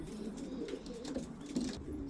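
Racing pigeons cooing as they arrive home after a 530 km race in strong wind, soft repeated low coos mixed with faint rustling and outdoor background, fairly quiet.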